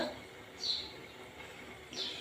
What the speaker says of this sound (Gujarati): તમે પંખીનો અવાજ સાંભળી શકો છો બહુ જ મસ્ત મજાનો